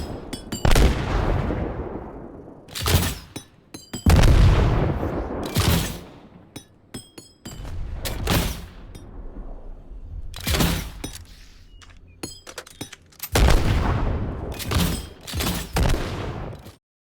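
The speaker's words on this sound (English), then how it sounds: "It also has an alternate fire, allowing you to make the grenades bounce around." Grenade launcher rounds from the alternate fire in the co-op shooter Earthfall clack as they bounce, then burst in a rapid string of loud blasts and crackling gunfire, with short quiet gaps between the volleys.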